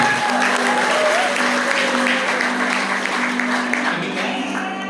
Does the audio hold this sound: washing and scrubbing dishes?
no